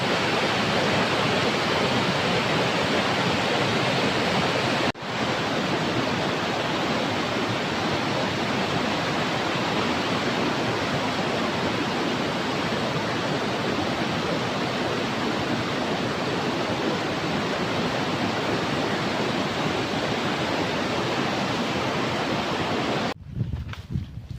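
Snowmelt waterfall pours down a mountainside in Norway, a loud, continuous rushing roar that holds steady throughout, with a brief knock partway through and another at the very end.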